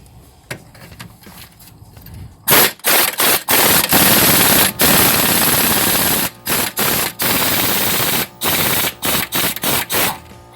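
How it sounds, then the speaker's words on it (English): An air impact wrench rattles loud and close on a bolt of a 2011 Hyundai Santa Fe during an engine overhaul, firing in a long burst followed by several short bursts separated by brief pauses. "I felt it move my wrench."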